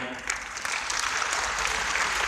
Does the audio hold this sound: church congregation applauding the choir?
yes